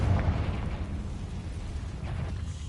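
Rumbling blast from a Confringo spell in a video game, a deep sustained boom with low roar lingering steadily for a few seconds, no talking.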